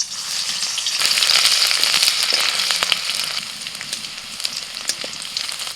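Chopped chilli, ginger and garlic fry in a little white oil in a wok, a loud, dense sizzle and crackle that peaks early and then settles, with light stirring and no talking.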